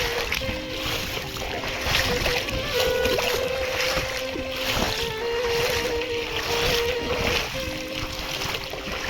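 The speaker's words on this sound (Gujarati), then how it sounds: "બહુ પાણી આવ્યું નદીમાં." Swollen river water rushes in a flood during heavy rain near Jam Rawal in Gujarat, a loud unbroken roar running through the whole stretch with a faint steady hum beneath it.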